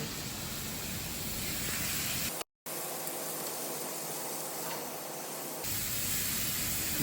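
Ginger-garlic paste fried with Kashmiri chili for a katla fish kalia, giving a steady, loud hiss of sizzling oil that drops out briefly once and then carries on evenly to the end.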